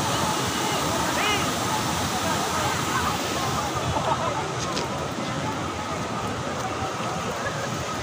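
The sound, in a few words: pumped artificial waterfall in a river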